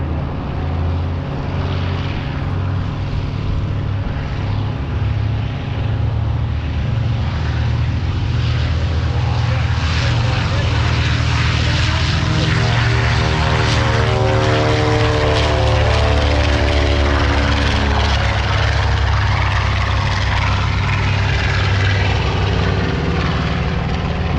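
North American B-25J Mitchell bomber's propeller engines roar loud and constant through its takeoff roll at an airshow, the pitch climbing steadily as it speeds up, with no talk over it.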